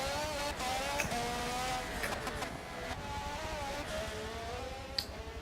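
A Porsche 919 Evo race car in Forza 7 at the Nurburgring holds a steady high engine whine with small pitch shifts and faint ticks of gear changes, loud and continuous throughout.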